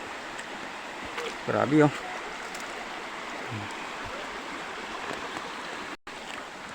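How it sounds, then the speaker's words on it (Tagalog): Creek water running steadily at Kalaw Falls in a forest park, a constant close rushing wash that continues the whole time while someone speaks briefly over it. "Ganito pa lang yung sapa."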